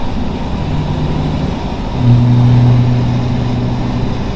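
Engine of a BMW E34 station wagon pulling under acceleration while driving, a steady droning hum that rises in pitch and swells slightly louder partway through, heard alone without talk.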